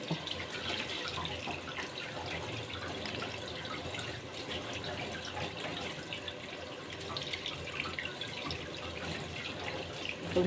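Water runs steadily from a tap into a sink, a continuous splashing hiss that stays even and fairly close throughout, with no voices over it.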